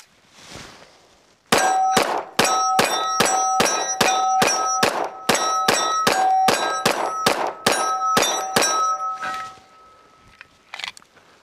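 Remington 1911 R1 Tomasie Custom double-stack pistol firing a rapid string of about twenty shots, each sharp report followed by a ringing clang from steel targets, loud and close with brief pauses between groups.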